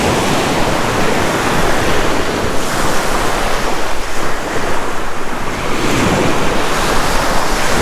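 Surf washes steadily onto a beach, a continuous loud roar of breaking waves mixed with gusting wind buffeting the microphone, with no voices.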